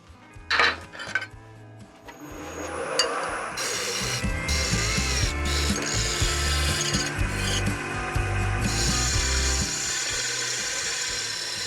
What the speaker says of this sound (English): I'm going to do now is to put a tenon on each end of it.